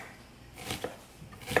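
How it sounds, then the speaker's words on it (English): A knife chops onions on a cutting board, with a few distinct sharp cuts spaced unevenly over a quiet background and nobody speaking. "This is just a different way of chopping up onions."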